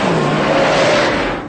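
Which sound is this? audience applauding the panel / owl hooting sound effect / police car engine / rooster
police car engine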